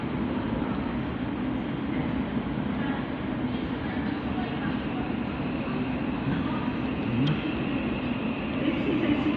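Train at London Bridge station, a steady rumbling rail roar from a passing or idling train on the platform, continuous and fairly loud, with a brief faint squeal near the end.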